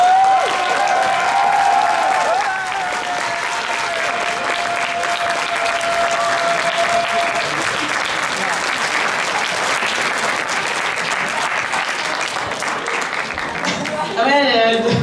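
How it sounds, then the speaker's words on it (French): A cosplay contest audience at Japan Impact 2018 applauds the solo contestants at the awards ceremony: dense, sustained clapping fills the whole stretch, with a voice carrying over the start. "Merci de les applaudir."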